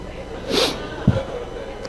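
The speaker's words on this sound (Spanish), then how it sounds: "Ustedes vean que voy a estornudar, bajen el volumen." One man sneezes during a spoken lecture on Judaism: a sharp, breathy burst, then a short low thump a moment later, with quiet room tone around it.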